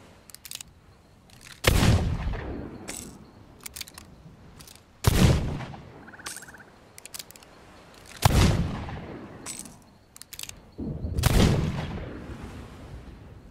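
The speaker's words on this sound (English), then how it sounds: "If you hip fire the pistol." Four sharp, loud pistol shots are hip fired in the pirate video game Sea of Thieves, each a sudden blast spaced a few seconds apart with a decaying tail, with quieter clicks and game noise between them.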